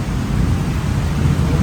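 Heavy rain pours down with a low rumble of thunder rolling underneath, a dense, steady roar that stays loud and unbroken with no voices.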